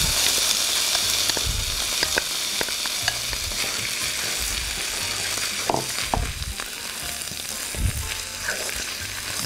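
Tomato sauce is stirred into a sizzling moussaka meat mixture in a pan, with a constant close hiss broken by repeated scraping strokes of a spoon and a few louder clatters against the pan.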